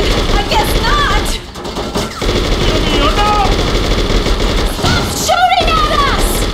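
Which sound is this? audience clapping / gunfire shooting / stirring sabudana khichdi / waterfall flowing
gunfire shooting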